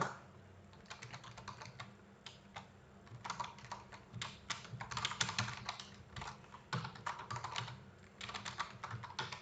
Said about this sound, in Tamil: நான் ஒரு பேசிக்கான ஸ்ட்ரக்சர் டைப் பண்ணிவிட்டு உங்களுக்கு என்ன அப்படின்னு சொல்கிறேன்.